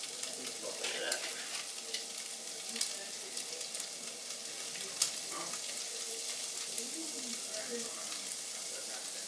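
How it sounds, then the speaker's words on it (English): Onions sauteing in a little oil in a home kitchen pan, a steady close sizzle and crackle throughout with occasional louder pops and faint stirring clatter, no talking. "I just put a little bit in there to saute the onions, and that's what happens."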